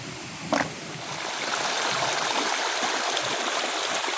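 Water flows steadily through a dug drainage channel on a farm, a continuous close rushing with one brief knock near the start.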